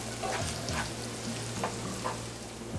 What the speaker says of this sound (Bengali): এবার এই পেঁয়াজ কুচিটাকে ব্রাউন করে ভেজে নিতে হবে।